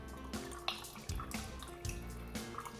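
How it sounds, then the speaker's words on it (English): Water poured through a funnel into a bottle partly filled with oil, a steady close trickle and gurgle with small splashy drips recurring over a few seconds, heard alone without talk. "And the water's pouring in."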